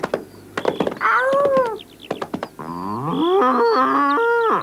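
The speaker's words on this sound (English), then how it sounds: "It's Boomer the bull. He's broken loose and he's in the lane." A cartoon bull bellows in a 1980s animated series: deep sliding moos, one long and one drawn-out wavering call, mixed with hollow knocking thumps and clatter between them.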